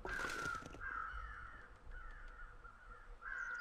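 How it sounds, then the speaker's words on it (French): A crow caws repeatedly in The Long Dark survival game, harsh calls in an uneven series with a loud opening burst, quieter ones in the middle and a strong caw at the end, over faint wind-like ambience and no talk. "Le corbeau avec le crash"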